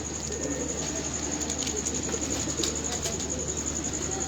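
Pigeons coo softly on a rooftop loft under a steady high-pitched background whine, with a few short chirpy bursts breaking through the continuous hum.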